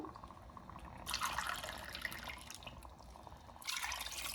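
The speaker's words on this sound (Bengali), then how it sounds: "গরম জল দিচ্ছি, গরম জল দিলেই ভালো" Hot water pours into a cooking pot holding rice, a faint splashing stream that swells in two louder surges, quiet and close.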